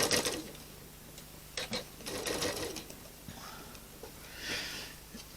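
Sewing machine with a quarter-inch foot stitching binding onto a Valentine quilt top, running in short bursts of rapid needle chatter separated by pauses and quiet handling noises.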